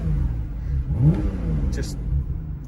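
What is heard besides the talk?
Porsche 991 Targa 4 GTS engine revving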